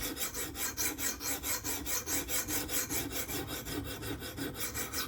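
A knife blade is drawn back and forth over a sharpening stone to raise a burr, making a steady rhythmic rasping scrape with regular strokes, close and fairly quiet, with no talking.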